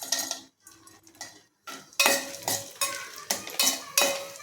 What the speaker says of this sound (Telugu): ఇప్పుడు కిస్మిస్ వేస్తున్నానండి